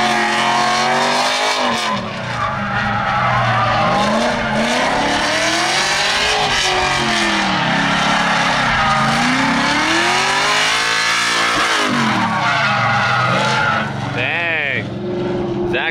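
A drift car at a competition screams past with a high revving engine and long sliding tire squeal, loud and close, while people talk over it.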